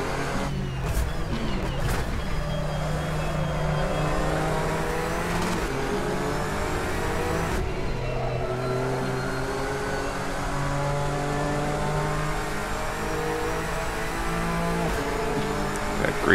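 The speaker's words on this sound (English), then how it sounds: "That great sounding engine." A video game GT3 race car engine in Assetto Corsa at Spa revs and drones continuously, pitch climbing and dropping through gear changes, loud and close with tire noise underneath.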